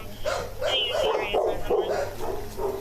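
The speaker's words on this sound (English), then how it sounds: "There's a dog in there." Dog in a kennel barking repeatedly in a steady run of sharp, close barks with some whimpering yips mixed in, fairly loud and continuous throughout.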